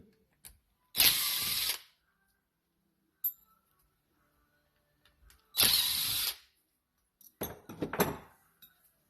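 A number 2 Phillips screwdriver removes the dome screws from a Honda N600/Z600 carburetor, making several close, short bursts of scraping, ratcheting clicks separated by quiet gaps, with no talking.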